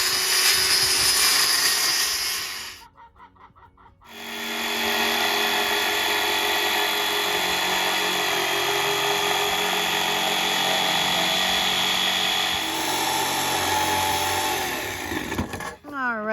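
A power saw cuts wood for a rabbit box, a loud continuous whine that runs for a few seconds, pauses briefly, then drones on steadily to the end.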